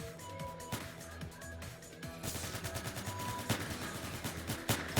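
Rapid bursts of gunshots in the Roblox game Entry Point crackle loudly and continuously, stuttering into a dense fusillade with a voice talking faintly underneath.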